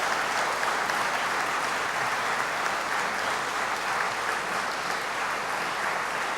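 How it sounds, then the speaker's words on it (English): Graduates at a Waterford Institute of Technology conferring ceremony clap in sustained, dense applause that fills the hall at a steady level from start to finish, with no voices over it. "give a round of applause to all of their family members who are here today"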